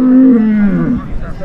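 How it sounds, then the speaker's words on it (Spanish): A dairy cow at a livestock market lets out one loud, close, low moo that slides downward and trails off, with faint market noise behind it. "aquí nos encontramos con una vaca súper, súper lechera"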